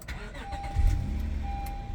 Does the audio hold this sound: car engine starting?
yes